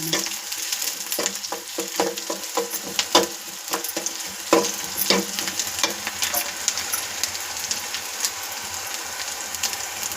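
Garlic roasting in hot oil for a village-style sprouted bean curry, a loud close sizzle with bursts of popping and stirring scrapes.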